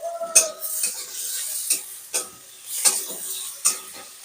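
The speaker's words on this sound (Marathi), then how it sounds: "कांदा परतून घेऊ. टमाटा परतून घेऊ." Onion and tomato sautéed in a pan for a soybean chunk curry, heard as a series of sharp metal spatula scrapes and clinks against the pan, about six strokes over a faint sizzle, close and alone.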